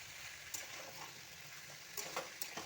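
Jackfruit curry stir-fried in oil in a pan, a faint low sizzle with occasional spatula scrapes and light clicks against the pan, heard quietly with no voices.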